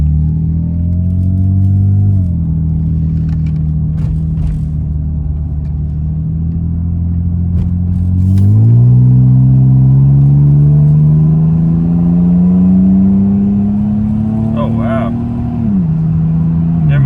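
A BMW E36 accelerating at full throttle, a car with known acceleration problems. The engine note climbs loud and close in long rising sweeps, breaking with drops and fresh climbs that sound like gear changes.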